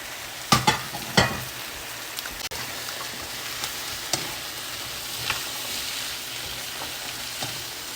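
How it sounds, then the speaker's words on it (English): Squash and zucchini fry on a hibachi griddle with a steady soft sizzle, punctuated early by a few sharp scraping clanks of a utensil stirring, then lighter occasional taps. "Your squash and your zucchini to it. Just gently stir."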